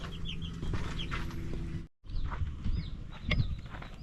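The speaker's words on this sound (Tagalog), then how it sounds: "Pakainin na natin yung mga sisiw." Chicks cluck and peep close by while being fed, with short scattered calls rising over a low background rumble and a brief cut in the middle.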